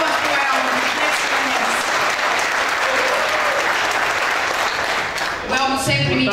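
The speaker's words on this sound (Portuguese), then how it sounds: "palmas pro Elmo" A crowd at a campaign launch rally applauds loudly and steadily, a thick continuous roar of clapping that briefly dips near the end as voices and cheers break through.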